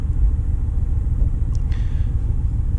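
A tight-running car engine idles steadily, a dense continuous low rumble heard up close, with a brief faint metallic tick midway.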